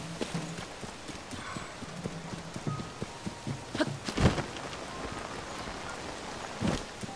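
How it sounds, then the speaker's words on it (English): Rain falling in Zelda: Tears of the Kingdom, a continuous patter of drops under irregular clip-clop hoofbeats, with one louder thud near the middle and another near the end; no one speaks. "It's raining."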